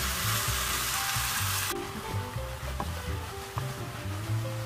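Pork stir-fried in a pan with a splash of soju for Korean jeyuk-bokkeum sizzles loudly and steadily, with a hissing burst at the start that settles into continuous frying crackle.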